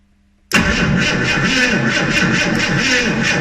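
A 1976 Ford Capri Ghia 2.8 engine turns over with a sudden loud start after near silence, then settles into a steady, throbbing idle close by.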